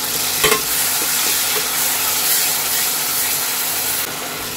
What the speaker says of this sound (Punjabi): ਤੜਕਾ ਆਪਣਾ ਹੋ ਗਿਆ ਬਰਾਊਨ ਅਤੇ ਹੁਣ ਆਪਾਂ ਨਾ ਟਮਾਟਰ ਦਾ ਪੇਸਟ ਪਾ ਦਾਂਗੇ